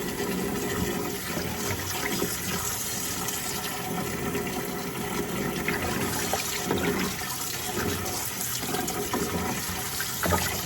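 Continuous rush of very hot tap water running into a sink while greens are washed, steady throughout with light clatter and movement in the water.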